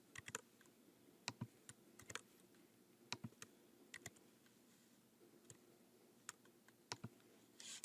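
Computer keyboard keys tapped in short, irregular bursts while working in a spreadsheet, crisp close clicks separated by quiet gaps.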